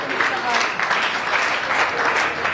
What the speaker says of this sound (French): Est-ce qu'on peut encore acclamer pour la gloire?